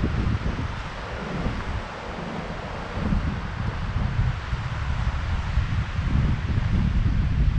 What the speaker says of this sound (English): Can't even hear the generator from here because of the wind noise.